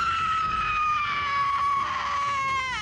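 A woman's sustained, high-pitched horror-film scream on the set of The Texas Chainsaw Massacre: The Beginning, loud and close, holding one piercing tone for nearly three seconds with no talk.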